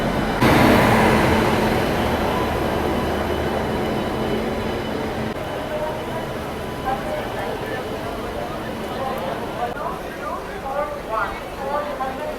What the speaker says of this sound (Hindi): सामने खड़ी है हजरत निजामुद्दीन से चलकर एर्नाकुलम की ओर जाने वाली सुपर फास्ट एक्सप्रेस।